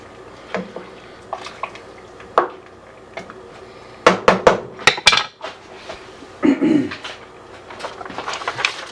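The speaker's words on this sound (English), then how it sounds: "Put our chilies in. Alright. Give this a little stir." Scattered clinks and scrapes of a utensil stirring chilies and tomatoes in a soup pot, with soft wet shuffling, irregular and close, louder in a burst midway.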